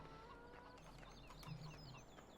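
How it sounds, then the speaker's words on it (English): Chickens cluck softly and intermittently in the farmyard of Farming Simulator 17, with faint chirping birds mixed into the quiet background ambience. "Got chickens roaming around nonchalantly."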